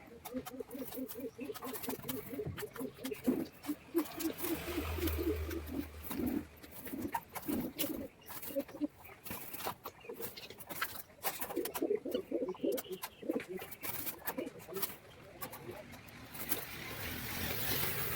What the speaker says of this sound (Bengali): এই খাঁচার এই পায়রাগুলো বহুত বদমাস পায়রা আমার